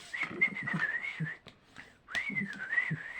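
A person whistles a wavering, sliding tune in two phrases split by a short pause, with soft handling noises from folding paper underneath.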